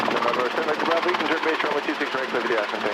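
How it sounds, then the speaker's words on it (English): A helicopter in flight, its rotor and engine a steady, loud, close drone with rhythmic blade chop throughout, while the pilot talks over it. "I'm flying the helicopter."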